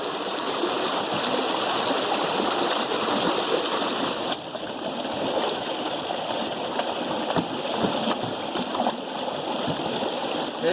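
Steady rushing river water flows continuously beside a floating dredge, a dense, even wash of sound from start to finish with no voices.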